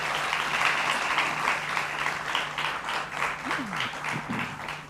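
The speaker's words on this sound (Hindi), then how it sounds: "जोरदार तालियों से इनका स्वागत कीजिए।" An audience applauds to welcome a guest onto a studio talk show, a steady dense wash of clapping that holds for the full stretch with a low hum underneath.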